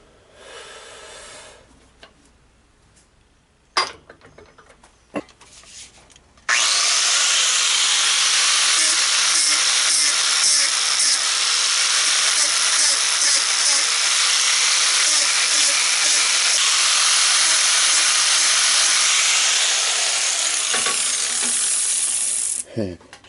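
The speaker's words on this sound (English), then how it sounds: "I think it's side grinder time." A side grinder works the surface of a dried-out wood vase on a lathe, starting with a sudden loud, steady broadband abrasive roar that runs for about seventeen seconds after a few quieter knocks and clicks.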